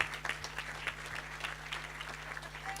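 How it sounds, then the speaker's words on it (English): An event audience applauds the arrival of an Australian media personality and former cricketer, thinner scattered clapping heard over a steady low electrical hum, moderately quiet and a little distant. "Ladies and gentlemen, big round of applause."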